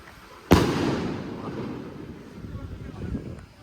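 A sample firecracker goes off at a birthday celebration: one loud, sharp bang, then a long rumbling decay under steady wind noise.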